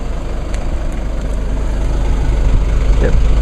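Idling engine with dual exhaust, heard up close from the tailpipes as a low steady rumble that swells slightly in loudness, with a faint clank near the end.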